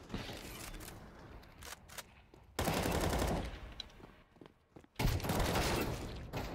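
M4 rifle fire in Counter-Strike 2, loud rapid automatic bursts in two or three long strings separated by short gaps, close and dense.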